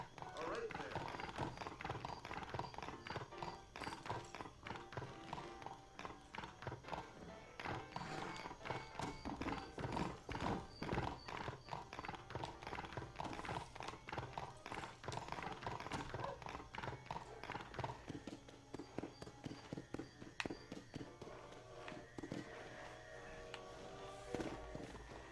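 Horse hooves clip-clopping in the open-world video game Red Dead Redemption, a steady rhythmic gait running throughout over game music and ambience, with a voice speaking at times.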